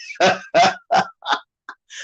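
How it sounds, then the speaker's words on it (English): Chickens and guinea fowl call close by, a series of six harsh, honking squawks in an uneven rhythm, the last ones shorter and clipped, with near silence between them. "me chicken and guinea fowl"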